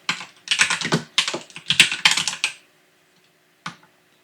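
Close, rapid typing on a computer keyboard during a Linux setup: several quick bursts of clicking keystrokes, then a pause and one final isolated keypress, with no voices.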